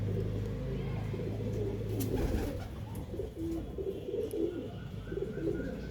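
A pair of magnet pigeons coos softly in low, repeated murmuring calls, fairly faint against a steady background hum, with a faint car-like noise at times.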